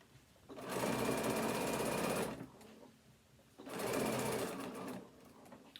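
Two loud, steady runs of a sewing machine stitching fabric binding on a phone stand, each lasting under two seconds, separated by a short quiet pause with faint handling.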